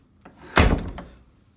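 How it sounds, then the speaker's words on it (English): A hotel room door swung shut, a small rattle first, then one loud close thud with a brief rattling tail, close by and with no voices. "Shut the door."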